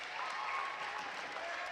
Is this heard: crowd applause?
yes